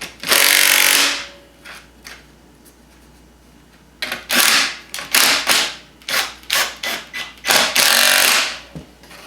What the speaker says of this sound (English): use my 7/16 to tighten them up